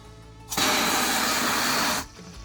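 Water sprays steadily into a toy construction-vehicle car wash, a close, loud hissing burst that runs for about a second and a half, then stops abruptly.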